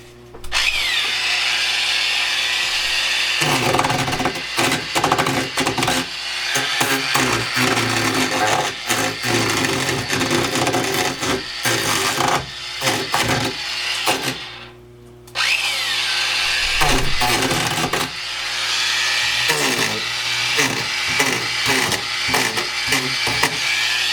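An Arbortech mini grinder with a planer blade chews into a piece of hard firewood, a loud, close, continuous high whine broken by rough rattling bursts as it bites, with a brief pause before cutting resumes.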